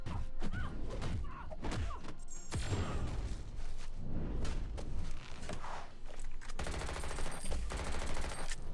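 Video game gunfire rattles in sharp repeated bursts and single heavy shots during combat, loud and close, with thumps between volleys and a dense rapid burst near the end.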